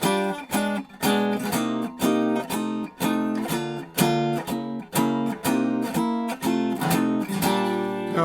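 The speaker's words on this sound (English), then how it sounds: "Here is the sound of the guitar with the microphone's right about there" Ibanez PM3C archtop guitar strummed acoustically with rhythmic, percussive chord strokes in a steady pattern, close and full-bodied, recorded through a nearby microphone with no talking.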